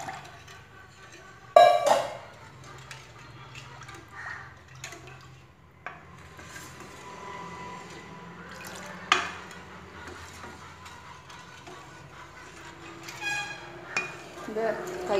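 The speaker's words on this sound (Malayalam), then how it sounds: "ഇത് കൈയെടുക്കാതെ ഇളക്കിക്കൊണ്ടേ ഇരിക്കണം." A palm halwa mixture is stirred nonstop in a pan, with quiet scraping and occasional sharp clinks of the utensil against metal spread across a long, fairly calm stretch.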